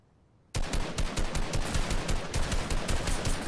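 In Fortnite, a weapon opens up after a brief quiet moment and fires sustained rapid automatic bursts, loud and close, continuing without pause to the end.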